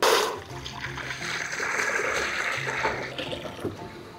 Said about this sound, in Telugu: బిర్యానీకి వాటర్ పోసుకుంటాను.